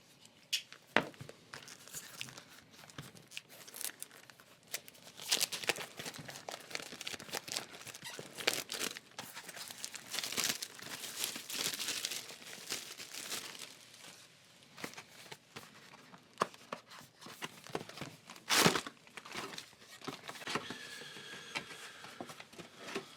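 A Magic the Gathering booster pack wrapper, a Kaladesh box, is cut and torn open, giving irregular crinkling, crunching foil rustles and sharp tearing bursts over about twenty seconds, close up with no speech.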